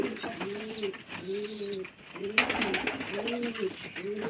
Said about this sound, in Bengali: দেখুন বন্ধুরা আমার হাতে খাবার বাটিটা আর পায়রাগুলো খাওয়ার জন্য কেমন করছে দেখুন